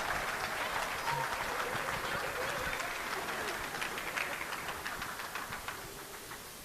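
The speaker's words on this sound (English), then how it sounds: "Let's keep the clap coming." Audience clapping steadily at a talk at a diaspora gathering in Calgary, a dense sustained patter of many hands that continues throughout at a moderate level.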